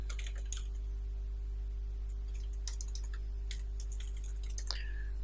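Soft, irregular key clicks from a computer keyboard while Urdu text is typed, quiet and close over a steady low electrical hum, with no one speaking.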